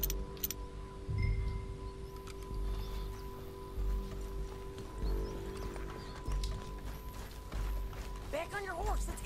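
Horse hooves pounding in Red Dead Redemption 2, rhythmic clip-clop under game music and mechanical effects, ending with a short whinny-like sound.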